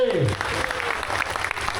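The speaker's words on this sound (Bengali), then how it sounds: "আমরা তাদের জন্য একটা জোরে হাততালি" Audience applause at a temple gathering during Ratha Yatra at the Gundicha temple, ISKCON Barasat: a burst of steady, dense clapping from a crowd, fairly loud and close, with a voice over the start.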